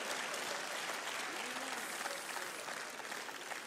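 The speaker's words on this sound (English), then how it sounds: "Somebody clap for the preacher this morning." Church congregation clapping for a guest preacher during a morning service, a steady wash of many hands at moderate distance, holding evenly with a slight fade toward the end.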